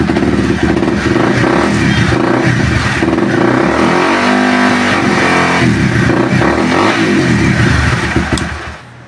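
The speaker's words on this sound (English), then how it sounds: "So I just wanted to let you all listen to how the bike sounds." A motorcycle engine runs loudly and steadily up close, its revs rising and falling in several pulls before easing off at the end.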